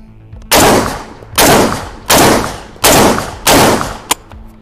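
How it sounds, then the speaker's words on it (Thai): A Kral Arms Tavor-style bullpup shotgun fired rapidly at a target about ten yards away, five loud booming shots in a steady rhythm, each with a long ringing decay, ending with a faint click. "ทีนี้เดี๋ยวผมจะลองยิงดูนะครับในเรื่องของการทำงานของตัวปืนบรรจุไป5นัดนะ"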